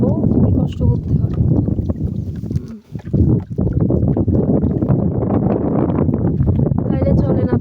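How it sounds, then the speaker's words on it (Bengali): Strong wind gusts roar and buffet the microphone on a rowboat being pushed upwind across open water. The rushing sound is continuous and loud, with a brief lull partway through. "দেখতেছেন বাতাস আসতেছে এদিক থেকে, আর আমরা যাচ্ছি হচ্ছে বাতাসের বিপরীত দিকে"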